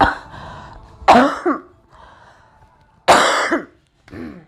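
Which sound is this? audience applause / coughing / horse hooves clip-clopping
coughing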